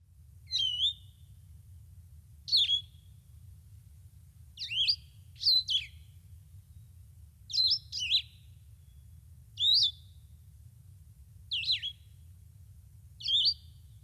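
A single bird in Vermont woods sings short, clear whistled phrases one at a time, spaced about two seconds apart, over a quiet low hum.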